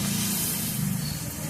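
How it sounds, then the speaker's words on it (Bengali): Water splashes into a hot cooking pan of neem-leaf shukto and sets off a loud, continuous hiss and sizzle that holds steady throughout, with no voices. "এবার আমি একটু জল দিচ্ছি"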